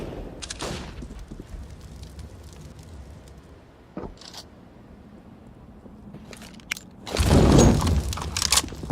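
Counter-Strike match: a Molotov and grenade thrown into a corner, heard as sharp bursts and crackling clatter, with a louder fiery whoosh and rumble near the end over faint background game sounds.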